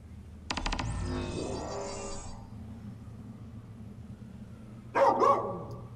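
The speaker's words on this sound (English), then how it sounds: "Follow the barking." A dog barks in the Final Fantasy XV game, a burst of a few sharp barks followed by a pause, then another short pair of barks, over quiet game ambience.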